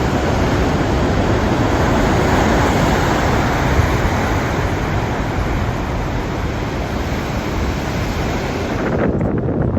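Atlantic waves crashing against rocks on the Northern Ireland coast near Giant's Causeway, a continuous loud roaring surge with heavy wind buffeting the microphone, no voices.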